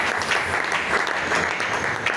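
A congregation at a French-language church worship service claps loudly and continuously, a dense, even burst of applause and acclamation filling the whole moment without clear speech.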